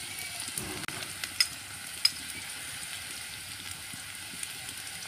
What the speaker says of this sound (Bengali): পেঁয়াজটা সেদ্ধ হয়ে ভাজা ভাজা হয়ে এসছে